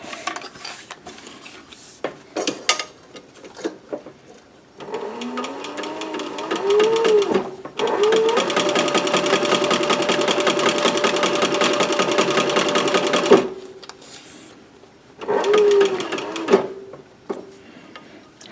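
A Cobra 26 sewing machine stitches a fabric cloth mask in bursts of steady rapid motor whir, a long continuous run in the middle and shorter runs before and after, close and loud, with light handling clatter between.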